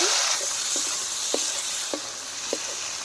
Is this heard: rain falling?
no